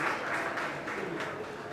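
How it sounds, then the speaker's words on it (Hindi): A short, faint burst of audience clapping at the New Delhi launch ceremony for the 2025 World Para Athletics Championships, heard as a soft, even wash of applause. "एक बार जोरदार तालियां भाई सभी के लिए।"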